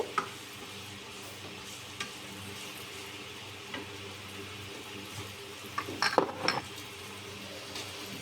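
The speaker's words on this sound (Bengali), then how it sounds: "এখানে আমি পেঁয়াজ কুচি কাঁচামরিচ কুচি তারপরে কিছু মটর এগুলো তেলে কিছুক্ষণ বেঁধে নিব" Chopped onion, green chili and peas fry quietly in oil, a soft sizzle under a few faint stirring taps and a brief cluster of clinking utensil strokes near the end; close but low in level, no talking.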